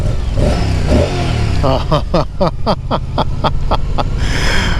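A 2024 Moto Guzzi V100 Mandello S motorcycle engine revs up in a series of rising bursts, close and loud, over a steady idle.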